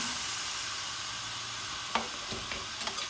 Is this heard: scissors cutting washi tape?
no